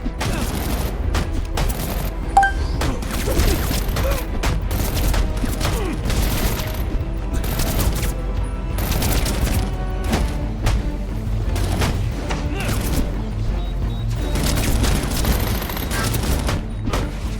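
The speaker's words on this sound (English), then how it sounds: "Firing on suspect!" Gunfire in Batman: Arkham Origins as armed thugs shoot at the hero: a long, dense fusillade of rapid shots and booms, loud and unbroken, with shouting voices mixed in at times.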